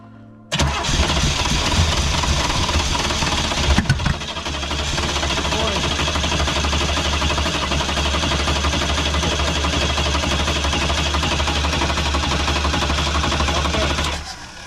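A flooded car engine, being restored from scrap for a movie set, cranks steadily and loudly for about fourteen seconds with a continuous churning rumble, starting abruptly and cutting off at the end; no voices are heard over it.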